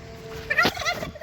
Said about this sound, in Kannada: ಕೋಳಿಗೆ ನೋಡ್ತೀರಾ